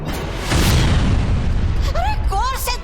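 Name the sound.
firecracker explosions hitting an army, TV show effect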